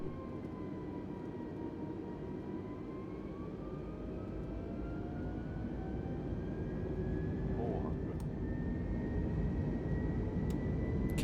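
An airplane engine held at full throttle in a flight simulator game drones steadily, a broad roar with rising tones that slowly swells louder over several seconds, with a voice talking faintly over it.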